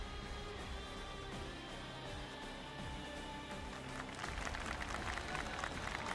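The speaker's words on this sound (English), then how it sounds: "I can hear clapping in the background" Applause and scattered clapping rise in the background during a game development livestream, a steady textured wash that grows louder and denser toward the end.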